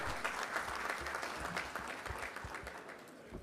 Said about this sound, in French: J'aimerais bien qu'on les applaudisse, s'il vous plaît, le syndicat.